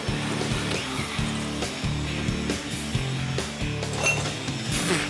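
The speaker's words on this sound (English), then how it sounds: "drill holes for the dual exhaust" Power drill boring holes for a dual exhaust during a house build, heard as a steady, loud, continuous mechanical whir with repeated pulses and bursts, close by and without talk.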